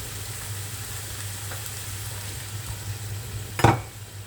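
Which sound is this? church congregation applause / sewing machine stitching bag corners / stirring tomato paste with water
stirring tomato paste with water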